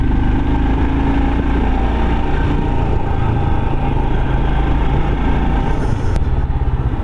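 Royal Enfield Himalayan 411 motorcycle riding along a forest road, a steady, loud engine drone with constant wind rush and no pauses, the tyre slightly soft and in need of air.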